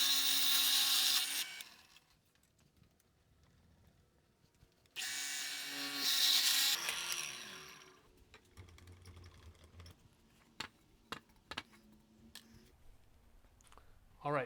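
A power drill boring a hole through a wooden beam for a DIY lever arm, two loud whirring bursts of drilling separated by a pause, followed by quieter clicks and handling knocks.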